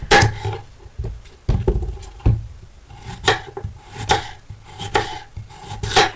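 A knife chopping peeled beetroot into small pieces on a cutting board, with irregular crisp thuds and scraping strokes, close and steady, no talking.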